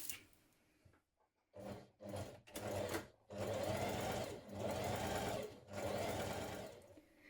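A sewing machine stay stitches a shirt pattern piece in several bursts: a few short stop-start runs, then longer sustained whirring passes with brief pauses between, close and clear with no talking.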